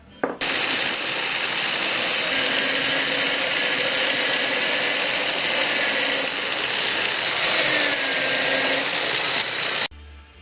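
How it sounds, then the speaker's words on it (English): A power drill runs continuously, boring holes into a wooden board for a lazy Susan marble bearing; steady loud whirring motor drone with no pauses, close and alone. "You want to drill a hole that leaves around a 1/16 of an inch of play around each one of the marbles."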